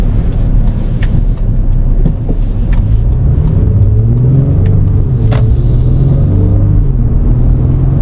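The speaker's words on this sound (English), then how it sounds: "I love this old V6 exhaust sound. It accelerates so nicely, smoothly." A 2025 Honda Pilot TrailSport V6 in sports mode accelerating at night, its exhaust note rising steadily from a low rumble as the revs climb, loud and close with some wind noise throughout.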